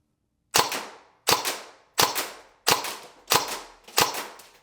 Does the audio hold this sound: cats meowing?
no